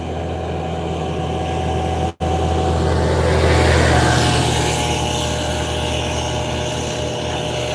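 A small buggy vehicle rolls past outdoors, its steady engine drone rising to a peak as it comes close and then easing off, with no talk over it.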